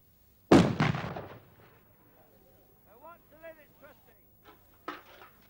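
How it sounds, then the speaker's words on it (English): A single sharp, loud explosive bang goes off during a 1971 explosives demonstration for schoolchildren and decays over about a second. Afterwards someone speaks quietly, with another smaller pop near the end. "you saw the smoke and you heard the bang."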